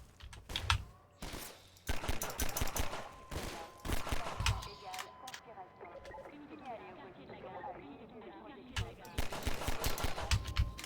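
Machine gun fire in the video game Half-Life 2: loud rapid bursts of automatic shots in several volleys, separated by quieter stretches of game sound, with a voice talking in between.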